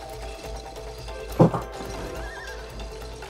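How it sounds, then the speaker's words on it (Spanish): In the video game It Takes Two, a horse gives one short, sharp neigh in the middle, set against a steady game soundtrack with faint hoof clip-clops around it. "El caballo."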